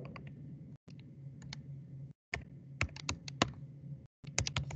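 Rapid keystrokes on a computer keyboard, clicking in uneven bursts with brief pauses between runs, close and fairly quiet.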